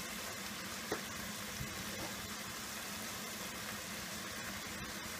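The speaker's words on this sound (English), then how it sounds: "So in goes 3 cloves of finely chopped garlic." Finely chopped garlic dropped into a pan of pasta sauce for chicken rigatoni, sizzling steadily and loudly up close, with a brief clink near the start and no voice.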